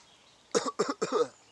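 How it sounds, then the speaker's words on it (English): Three sharp, harsh coughs in quick succession, close and clear, following a short quiet pause with no talking. "for weeks afterwards, I would still be coughing"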